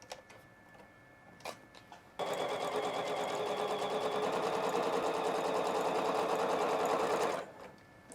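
A sewing machine runs steadily for about five seconds, stitching a quilt seam with a fast, even mechanical chatter, loud and close, framed by a few quiet clicks before and after.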